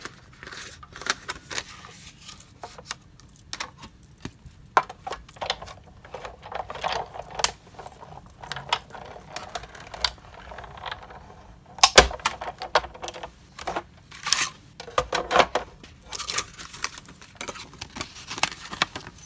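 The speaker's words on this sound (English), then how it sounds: "So I'm going to get the Big Shot and we'll cut this out." A Big Shot die-cutting machine with magnetic platform and cutting pad is cranked to cut paper, giving a steady run of ratcheting mechanical clicks and grinding rollers, close and continuous with a few sharper knocks.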